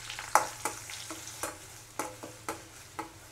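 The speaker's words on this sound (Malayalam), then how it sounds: "ഇനി ഇളക്കി കൊടുക്കാം" Spoon stirring a beetroot mixture in hot coconut oil with the flame off, giving a series of soft scraping clacks about every half second over a faint low sizzle.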